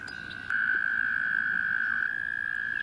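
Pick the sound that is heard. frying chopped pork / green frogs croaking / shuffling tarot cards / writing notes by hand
green frogs croaking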